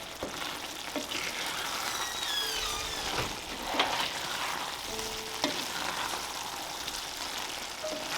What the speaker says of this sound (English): Just throw a cover on and let it simmer away